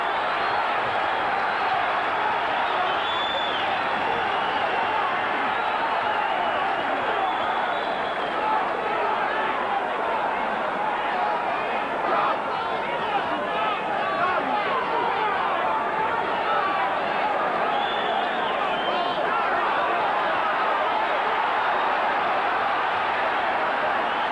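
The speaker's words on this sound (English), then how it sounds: "Just listen to this crowd." Spectators at a boxing bout between Chris Sanigar and Rocky Kelly keep up a dense, continuous roar and excited hubbub, loud and unbroken throughout, with scattered shouts rising out of the din.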